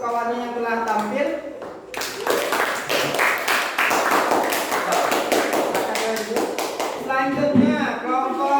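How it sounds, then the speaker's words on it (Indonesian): Students in a classroom clapping for classmates, a run of sharp, close hand claps with voices talking before and after. "kita tepuk tangan untuk kawannya yang telah tampil."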